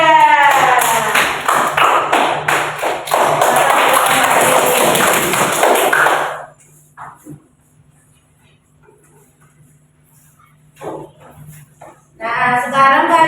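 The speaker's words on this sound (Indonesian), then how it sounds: "Tepuk tangan buat kelompok 3." A class applauds a student presentation group: loud, dense clapping from many hands that lasts about six seconds, then stops abruptly, leaving quiet room noise before voices return.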